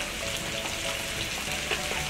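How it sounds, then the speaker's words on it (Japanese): Chicken skin sears in butter in a hot pan, giving a close, steady crackling sizzle with scattered sharper spits. "皮を焼くことによって、香ばしさをつけるんですね"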